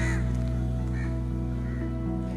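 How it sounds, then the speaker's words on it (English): Crows cawing in Magoroto Forest, Tanzania, a few harsh calls rising over a steady loud hum of background noise. "a lot of birds, a lot of crows"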